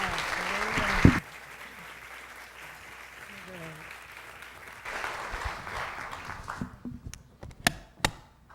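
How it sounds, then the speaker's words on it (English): Scattered audience clapping in a room, a brief burst of applause at the start followed by a quieter stretch with voices and a few sharp isolated claps near the end. "you got a lot of people clapping"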